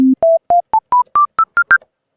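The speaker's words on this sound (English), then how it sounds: "whatever, it's Sine Wave." A default sine wave preset on the Citrus synth in FL Studio 21 plays nine short, pure, evenly spaced tones. Each note steps upward in pitch, and the tones sound clean and alone with no voices.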